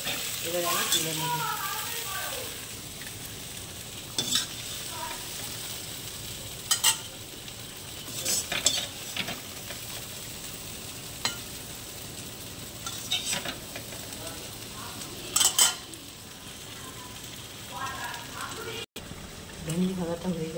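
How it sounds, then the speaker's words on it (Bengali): Bhindi (okra) frying in a pan, a soft continuous sizzle broken by sharp utensil clinks and scrapes as it is stirred and lifted out, with a voice speaking at times. "ভেন্ডি ভাজাগুলো হয়ে গেছে, এবারে আমি তুলে নেব।"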